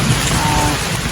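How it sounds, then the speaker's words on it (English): Rain falling outdoors, a loud, steady wash of hiss and patter that fills the short moment. "it's raining here."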